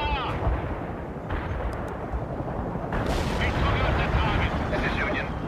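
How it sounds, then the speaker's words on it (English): Artillery fire in the video game World in Conflict, with dense booming blasts and rumbling explosions layered over a constant battle din, loud and continuous, with voices talking over it. "The artillery rounds are inbound."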